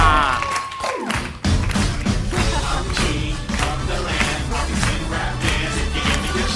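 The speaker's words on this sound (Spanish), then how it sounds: "¡Fuerte ese aplauso!" A TV show audience breaks into applause, a dense, steady wash of clapping with scattered cheers that rises suddenly after a brief dip and carries on over music.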